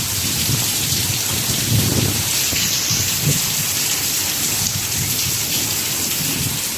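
Heavy rain falls during an outdoor fishing trip, a dense, constant hiss of drops pelting surfaces with occasional low rumbles, loud and unbroken for the whole stretch with no talking.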